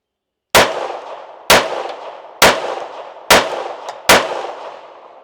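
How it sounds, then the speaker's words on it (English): Five pistol shots fired with 147-grain defensive ammunition, each a loud sharp crack with a ringing decay, spaced about a second apart at an even pace, with no talking. "Let's take a few shots with this 147 defensive ammo."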